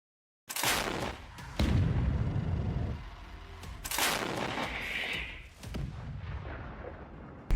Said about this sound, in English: Meanwhile, Russian artillery opens fire trying to hit an APC.